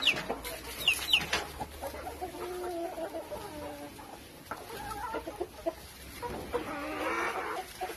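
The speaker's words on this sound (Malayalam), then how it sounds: "ഇതാണ് അപ്പോൾ എൻ്റെ ഒരു ഫാം ഫാമിലുള്ള കോഴികൾ ഇതൊക്കെയാണ്" Chickens cluck on a poultry farm with black hens, an overlapping chorus of soft clucks and calls at moderate distance, fairly faint, with no talk.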